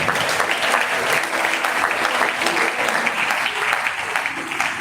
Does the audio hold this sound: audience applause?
yes